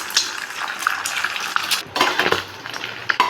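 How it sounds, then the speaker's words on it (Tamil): Two eggs are stirred in a pan for egg and chicken fried rice. A utensil clinks and scrapes against the metal in quick, irregular taps over a faint sizzle, with no talking. "இதை வந்து 2 எக்கையும் நான் வந்து கிண்டிக்கிறேன்."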